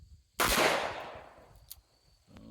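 A single sharp, loud gunshot from a Charter Arms Pit Bull 9mm revolver at an outdoor range, with a long decaying echo and faint sounds afterward.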